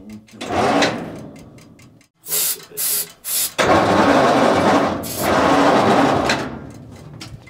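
An old engine on a 1940s Bay City crane, abandoned for 15 years, is started with starting fluid: several short loud mechanical bursts and pauses, then a sustained harsh, rattling roar that keeps running.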